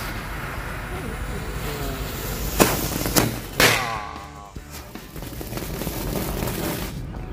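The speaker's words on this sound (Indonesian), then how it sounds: "Oke, berhasil menyala bosku. Mercon tank baja." A 'tank baja' firecracker set off during Lebaran 2024 bursts in a few sharp, loud bangs over a couple of seconds, with crackling around them and background voices nearby.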